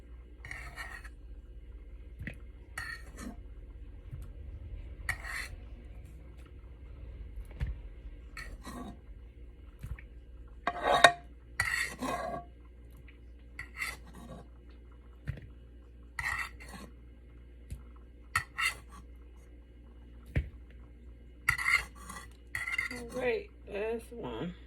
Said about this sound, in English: Sorry for the scraping noise with the fork.